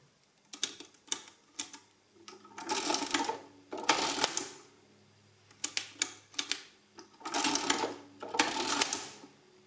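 A portable adding machine's printing mechanism runs in loud close bursts, each a rapid clatter of sharp mechanical strikes, with short quiet pauses between the printing cycles and nobody speaking.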